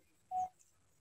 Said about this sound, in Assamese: কমলজিতক জনাবা অলপ কথা মই ফোন মাৰিছোঁ